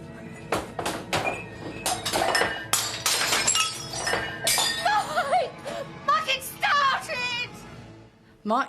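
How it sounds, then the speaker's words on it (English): Mugs and other glass crockery smash and clatter in a rapid series of sharp breaking crashes and clinks, followed by ringing shards tinkling as they settle, loud and close. "And there's all the mugs all smashed"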